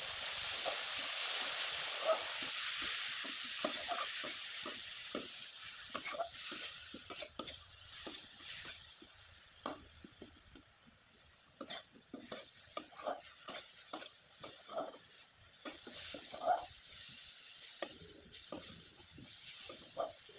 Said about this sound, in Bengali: এখন এখানে কিছুটা পরিমাণে নারকেল কোরানো দিয়ে দিব। আর খুব ভালোভাবে নেড়ে চেড়ে শুকনো শুকনো করে